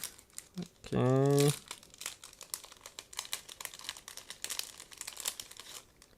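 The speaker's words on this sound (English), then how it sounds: "And next we have small plastic bag. As you can see, it is dedicated to clear parts. Just give me a second to open it." A small plastic bag holding clear parts from an ICM 1/48 Po-2 model kit is opened close up, crinkling and rustling in quiet, irregular bursts for several seconds after a brief spoken word.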